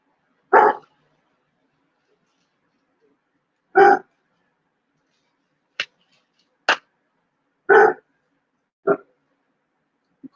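A dog in the background barks in single sharp bursts, spaced a second or more apart, mixed with a few shorter, higher yips, all fairly close against silence.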